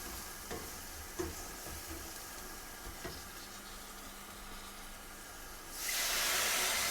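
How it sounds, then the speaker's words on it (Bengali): Spices sizzle steadily in a hot pan while a spoon stirs and scrapes at intervals, building toward a sudden louder rushing hiss near the end while cooking mola fish with olives. "সামান্য পানি দিয়ে ভাজা ভাজা করব, ভালো করে কষাবো, কষানো হোক।"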